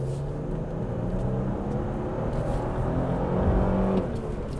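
A new Toyota Land Cruiser pulls strongly under acceleration, its engine a smooth steady drone from inside the cabin, rising slightly in level toward the end with no talk.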